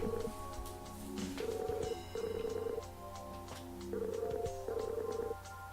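A telephone rings in a video game, repeating bursts of electronic ringing in a steady on-off pattern, moderately loud, with no talk over it.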